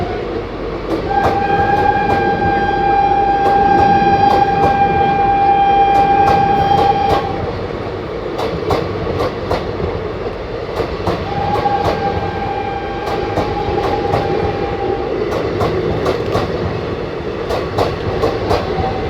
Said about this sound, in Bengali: হাওড়া প্রয়াগরাজ রামবাগ বিভূতি এক্সপ্রেস।